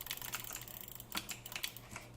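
A gaming mouse clicks in quick, quiet, irregular bursts, the sharp taps close and alone with no talking.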